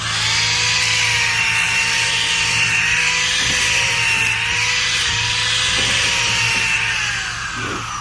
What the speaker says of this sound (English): This sander is such a beast.